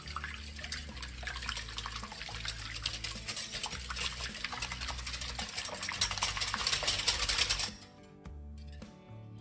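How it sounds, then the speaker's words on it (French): Salt and pepper being stirred into a tuna and vegetable tart filling in a bowl, a steady scraping churn of utensil against the mix that runs for most of the clip before easing off near the end, over low background music. "et on mélange"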